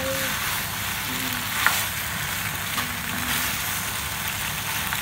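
Boiled macaroni pasta stirred and mixed in a hot pan, giving a steady sizzle with soft scraping strokes and one brief clink, close and continuous with no voices.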